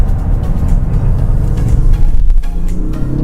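2020 Audi S6 Avant diesel taken fast through a roundabout on a closed road, a loud deep engine drone with road rumble heard from inside, swelling briefly under load.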